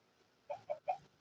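Three short clucking calls from a Minecraft chicken in quick succession, fairly quiet, over a near-silent background.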